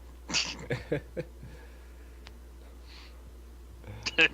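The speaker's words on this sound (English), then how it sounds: "My cat's all freaked out from the fire alarm." A frightened cat yowls in a series of short, fairly faint caterwauling cries in a quiet room after a fire alarm, with a few more cries after a pause.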